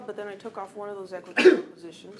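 A single sharp sneeze bursts out in a classroom during a chemistry lecture, loud and close, cutting across a teacher's ongoing talk.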